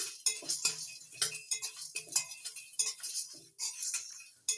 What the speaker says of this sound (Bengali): এক চামচ মৌরি এক চামচ জিরে কয়েকটা গোলমরিচ নাড়াচাড়া করে ভালো করে ভেজে নিচ্ছি